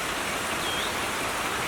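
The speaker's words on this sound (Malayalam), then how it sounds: "ഇപ്പം നല്ല മഴ പെയ്തുകൊണ്ടിരിക്കുന്നുണ്ട് കേട്ടോ." Heavy rain falls outdoors in a constant, even hiss of dense drops, steady and fairly loud throughout with no voices.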